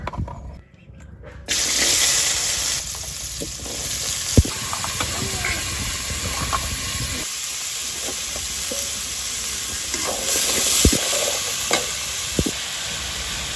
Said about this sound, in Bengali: এই কাঁঠালের দানাগুলো হচ্ছে যে এখন হচ্ছে যে তেলের উপর দিয়ে দিব